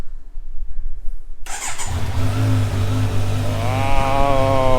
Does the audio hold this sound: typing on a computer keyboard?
no